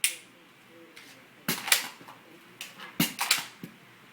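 A pistol magazine is picked up, seated and the slide cycled during dry-fire practice, producing a handful of sharp, close metallic clacks and snaps in quick clusters, loud and crisp against a quiet background.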